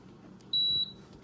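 A Power XL air fryer control panel gives a single short, clear electronic beep, a steady tone lasting about a third of a second in a quiet kitchen.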